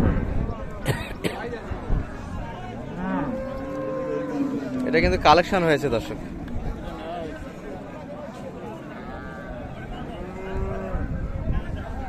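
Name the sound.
cows mooing at a cattle market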